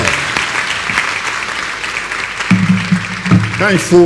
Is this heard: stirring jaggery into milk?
no